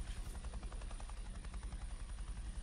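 Helicopter hovering in a flight simulator video game, viewed from outside near a ship: a steady, dense rotor thump and engine whine running continuously at moderate level, no talking.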